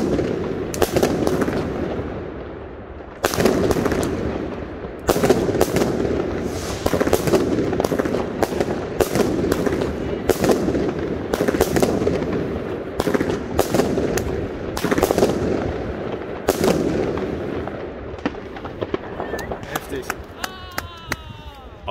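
An Argento Ammandra 13-shot 30mm firework battery fires a quick series of sharp, loud outdoor bangs at uneven intervals, each followed by crackling trails. Faint voices may sit beneath the blasts.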